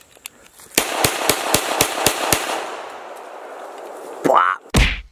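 A Suicide Squad toy gun fires a rapid burst of about eight sharp, loud cracks close by, followed by a fading electronic hum and two short whirring effect sounds at the end.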